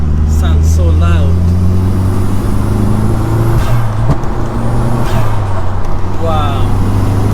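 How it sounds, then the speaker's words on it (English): A home-built turbocharged Audi A3 1.8T engine drones loudly from inside the cabin while driving, with a steady low rumble, rising turbo whistle and spool, and a person talking over it. "look at the turbo on this. Sounds so loud."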